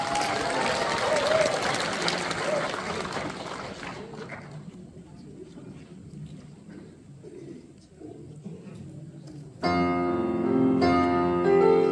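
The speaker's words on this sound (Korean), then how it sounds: "뜨거운 박수 한번 부탁드리겠습니다" An outdoor Buddha's Birthday celebration crowd in Jecheon claps for a Gyeonggi folk song performer, a burst of loud applause that thins into scattered claps and murmuring before music abruptly starts near the end.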